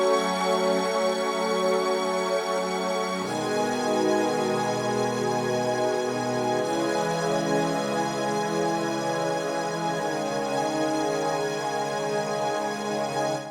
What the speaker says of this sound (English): I'm gonna be using bigger legato strings from Expand 2 for this specific one